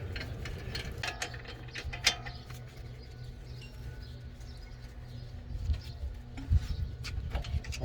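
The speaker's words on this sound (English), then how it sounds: "So just loosen those nuts." A wrench loosens brake caliper nuts on a 2017 Nissan Murano, with repeated ratcheting clicks and metallic taps over a steady low background hum, close and moderately quiet.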